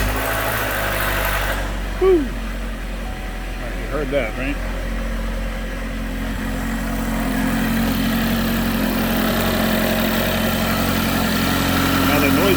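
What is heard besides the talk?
neglected car engine starting up and idling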